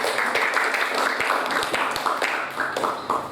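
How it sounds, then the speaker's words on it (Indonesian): Audience clapping in applause, dense and steady with some sharper individual claps standing out, moderately loud and continuing throughout with a few voices mixed in. "Tepuk tangannya, tepuk tangannya"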